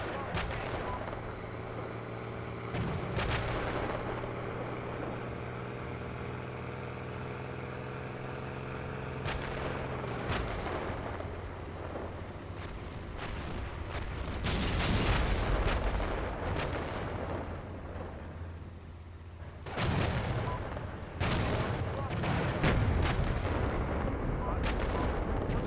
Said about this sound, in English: I'm hearing a lot of explosions.